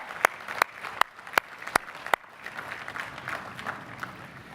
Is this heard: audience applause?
yes